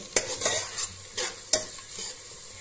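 Onions fry in a pan for Assamese fish pulao under a bright sizzle, broken by several sharp scrapes and clicks as a spoon stirs them, with no one speaking.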